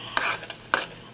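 A sticky mixture cooking in a pan is stirred at home, giving two or three scraping swishes of the spoon with a faint sizzle between them, near and fairly quiet.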